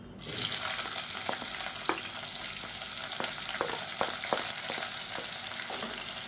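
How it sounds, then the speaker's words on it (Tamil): Sliced onion and whole spices frying in hot oil for brinjal biryani make a steady, dense sizzle throughout, broken by occasional soft clicks of stirring. "இப்போ பாருங்கள், நல்லா பொரிய ஆரம்பிச்சிருச்சு"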